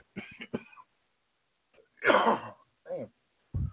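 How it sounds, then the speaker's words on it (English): A few harsh coughs and throat-clearing bursts come close together, with short pauses between them. "Go ahead and get done coughing there."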